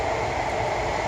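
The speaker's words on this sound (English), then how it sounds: "That's the train right next to the railway." A train rumbles steadily past on a railway beside a Scottish woodland site, a dense, continuous roar filling the whole moment without any voices.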